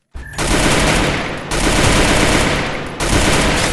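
Sustained, loud automatic gunfire from a shooter video game, three continuous bursts of rapid shots back to back with brief breaks between them, close and dominant with no talk.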